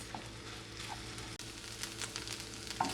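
Beyond Beef plant-based ground meat sizzles steadily in a pan, a soft continuous frying crackle with faint pops and occasional stirring, quiet and close with no talking.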